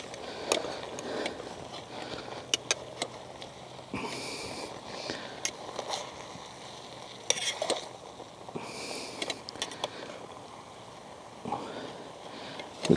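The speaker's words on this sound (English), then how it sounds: "We'll cook that with the lid off now and let it reduce a bit." A cream and butter sauce cooks in a pan at a campsite with a soft, steady simmering bubble. Scattered clicks and a few louder scraping bursts come through, and there is no talk.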